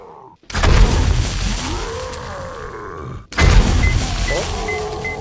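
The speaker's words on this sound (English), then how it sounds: "Maybe it was because of the explosion." Explosions in the 7 Days to Die game: two loud, heavy booms a few seconds apart, each followed by a long rumbling decay with creaking, groaning mechanical tones fading out.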